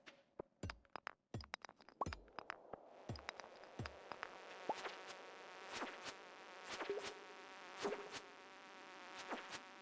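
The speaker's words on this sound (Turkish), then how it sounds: "Ay sineklerle dolu la bura." Flies buzzing in a survival video game, a steady insect drone that rises and swells over several seconds after a run of sharp clicks and thuds, fairly quiet and continuous.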